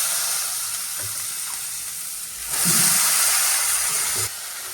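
Chopped raw plantain, with chilli powder, sambar powder and salt, hisses and sizzles steadily in hot oil, growing louder midway as the pieces are stirred, with light clinks of a spoon.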